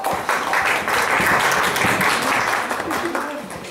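An audience at a mushaira in honour of the Peshawar martyrs applauds poet Ishrat Afreen, a dense, loud spread of clapping that holds steady, with voices mixed in beneath it before it eases off near the end.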